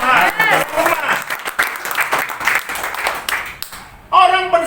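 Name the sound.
congregation clapping in church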